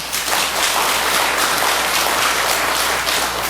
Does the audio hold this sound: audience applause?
yes